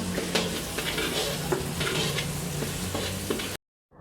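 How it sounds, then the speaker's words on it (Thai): Garlic fries in hot oil in a wok, a steady close sizzle with occasional stirring scrapes, cutting off abruptly just before the end. "เราตั้งกระทะนะครับใส่น้ำมันนะครับ ให้ร้อนหน่อยนะครับ เราจะใส่ กระเทียมนะครับ ลงไปเจียวนะครับ"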